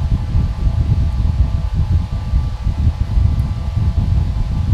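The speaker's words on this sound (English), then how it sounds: "It is blowing a pretty good amount of air at me for something so tiny." A small old metal electric fan runs steadily nearby, a continuous low-pitched whir with airy rushing noise and no talking.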